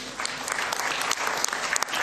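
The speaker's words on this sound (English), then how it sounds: "Can we clap hands for that resolution?" A general assembly audience of the African football confederation applauds an adopted resolution. Steady, crowded clapping fills the hall at moderate distance, with sharper individual claps popping through during a brief two-second stretch.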